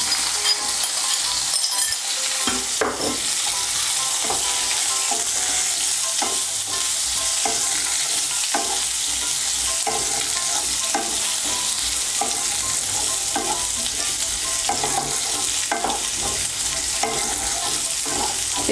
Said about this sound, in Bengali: পেঁপেটাকে তেলের সঙ্গে একটু মিশিয়ে নিয়েছি।